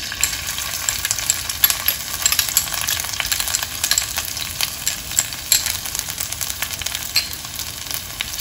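Green chilies and garlic sizzle and crackle in hot oil in a pan for Thai basil fried rice, a loud continuous frying hiss with scattered pops, close and alone.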